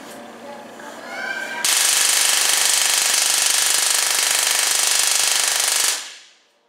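A 440,000 volt Marx generator firing a rapid series of loud, harsh crackling zaps for about four seconds at a maker faire, abruptly starting and then cutting off, with faint voices before it.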